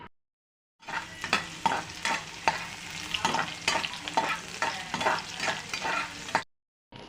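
Small onions and chillies sauté in a pan for a pepper country-chicken fry, with a steady close sizzle and repeated scraping stirs of a spoon against the pan, and no talking.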